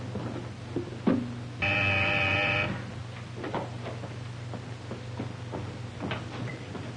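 An old 1940s telephone being used to place a call, heard as a short burst of steady, ringing buzz lasting about a second amid faint clicks and handling knocks in a quiet room.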